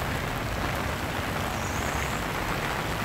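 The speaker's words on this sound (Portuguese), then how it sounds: "E a chuva não dá trégua." Steady heavy rain from a storm in Vila Prudente pours down continuously, a dense broadband hiss with faint low rumble beneath, no voices.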